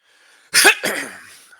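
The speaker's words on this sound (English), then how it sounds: "Sorry for the cough there, everybody." A single sharp cough, close and loud, bursting out in two quick parts before fading into quiet.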